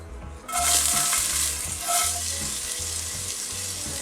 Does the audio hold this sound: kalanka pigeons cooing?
no